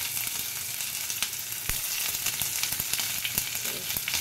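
Onion frying in mustard oil with dried chilli and mustard seeds, a dense, continuous crackling sizzle dotted with sharp pops and occasional stirring clicks, close-up and without speech.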